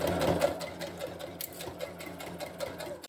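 A sewing machine stitches fabric in a continuous, fast, rhythmic whir of needle strokes, close and fairly quiet, with no talking.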